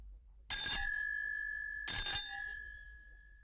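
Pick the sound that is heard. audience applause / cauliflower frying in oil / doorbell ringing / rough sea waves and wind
doorbell ringing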